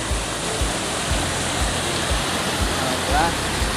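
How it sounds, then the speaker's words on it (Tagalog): A small waterfall at Baliti lake pours in a steady, dense rushing wash that stays loud and close throughout, with soft low thumps underneath and no clear talking. "Sa falls, mini falls."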